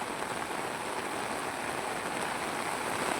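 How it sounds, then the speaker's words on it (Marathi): Heavy rain pours steadily over an outdoor theme garden in Thane, a dense, continuous hiss that stays loud and even throughout with no voices. "पावसाचं फुल थैमान आहे भाऊ"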